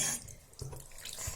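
A bathroom sink faucet runs during teeth brushing, a steady close splashing stream with small drips over a short stretch and no voices.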